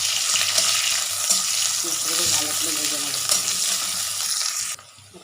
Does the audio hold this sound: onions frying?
yes